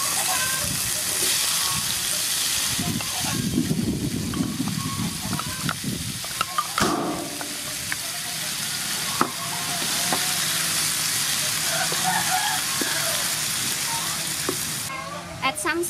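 Potato pieces fry and get stirred in soybean oil with chopped garlic, a steady sizzle with scraping and clattering utensil noises and occasional louder stirring bursts.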